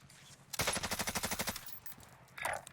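Rapid MP5 submachine gun fire in Call of Duty Warzone: a single sustained burst of about a dozen evenly spaced shots, crisp and fairly close, followed by quieter game ambience and a brief later noise.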